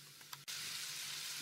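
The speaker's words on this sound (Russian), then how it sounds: "Кабачок мы обжарим вместе с овощами." Zucchini and other vegetables hit a hot pan and start frying. After a couple of soft knocks, a sudden loud sizzle breaks out and stays as a steady, close hiss.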